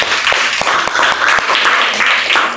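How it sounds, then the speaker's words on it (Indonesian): Classroom audience applauding after a group's teaching presentation, a steady wash of many hands clapping throughout, fairly loud and close. "kita tepuk tangan"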